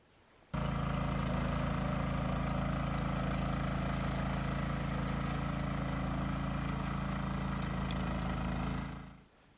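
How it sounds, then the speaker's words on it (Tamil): The small petrol engine of a Sharp Garuda mini weeder starts abruptly and runs at a steady idle-like drone for several seconds, then cuts off near the end. "வண்டி பார்த்தீங்கன்னா பெட்ரோல் இன்ஜின் தான் ஓடிட்டுருக்குங்க"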